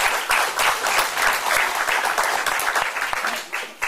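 Applause at a community town hall welcoming a new FMWR director; a crowd of hands claps loud and close in a dense, continuous burst that tapers slightly at the end.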